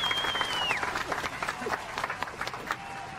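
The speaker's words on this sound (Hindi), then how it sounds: "भाई एक बार फिर तालियां भाई।" Audience applause on a Hindi TV comedy set, a dense steady patter of clapping with a faint crowd murmur throughout, moderately loud and even.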